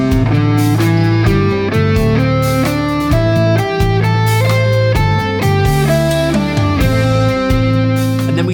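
Electric guitar plays a steady run of single notes up and down a scale, loud and close, each note cleanly separated with a brisk even rhythm and no voice over it.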